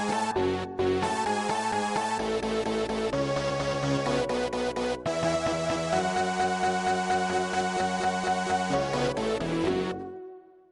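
Fortnite music blocks play the build-up section of the coffin dance meme tune as a dense, continuous electronic melody over steady rhythmic chords, loud and unbroken for about ten seconds before fading out.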